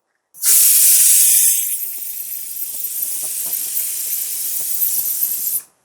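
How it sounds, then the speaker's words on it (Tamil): Pressure cooker cooking mutton lets out a loud, sharp whistle and hiss of escaping steam, strongest at first and then settling into a steady rushing release for several seconds before cutting off. "இப்போ இது மேலே வந்து விசில் போட்டுக்கலாம்"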